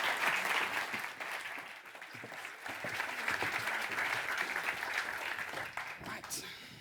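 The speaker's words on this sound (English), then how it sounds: "give them a round of applause" Applause at a panel talk on Web3 and wellbeing, a fairly quiet but sustained crowd clapping that holds steady for several seconds and then tapers off.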